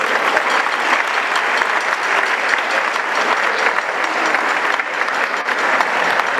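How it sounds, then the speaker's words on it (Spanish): A crowd at a social club event in Argentina bursts into strong, dense applause that stays loud and steady throughout, with no voices over it. "yo les pido un fuerte aplauso para ella"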